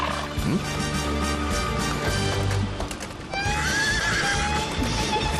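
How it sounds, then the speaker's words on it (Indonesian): A small horse whinnies and neighs loudly and close, with hoofbeats clopping underneath over a busy music-like background. "Itu kuda yang sangat kecil. Tapi dia sangat cantik, kan?"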